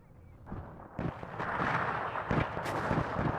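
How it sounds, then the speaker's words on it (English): Artillery fire in the WARNO wargame, a rumbling volley of distant booms building after a quiet start, with several heavier thumps layered into a sustained roar. "Alright, there goes the artillery."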